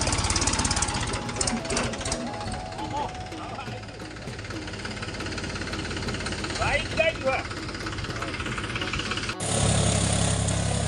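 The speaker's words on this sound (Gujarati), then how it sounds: "ટ્રેક્ટર આવી ગયું છે" A farm tractor pulls into a field, its diesel engine knocking and chugging steadily at close range, then its pitch and level shift near the end.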